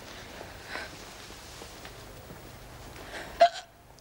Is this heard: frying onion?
no